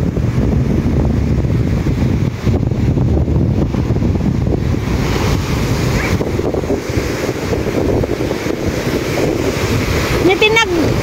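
Sea waves wash onto a sandy beach beside seaside houses, making a continuous loud roar of surf mixed with heavy wind buffeting the microphone, with a brief chirping sound near the end.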